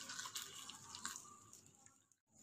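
Hot water poured over cauliflower florets in a bowl, a soft close splashing and trickling of liquid that runs steadily, then briefly cuts out near the end.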